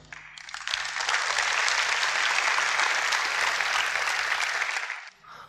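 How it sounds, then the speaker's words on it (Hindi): An audience at a motivational talk breaks into full applause that swells quickly, holds loud and even for several seconds, then tapers off abruptly. "आप लोगों ने मेरे लिए बहुत तालियां बजाई"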